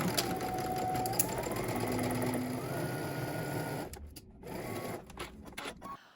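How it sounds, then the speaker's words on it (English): A sewing machine stitches the side seam of a collar at a 5/8-inch allowance, a steady close mechanical whir that stops near the end, followed by a few light handling clicks. "then we're going to stitch it using 5/8 of an inch seam allowance"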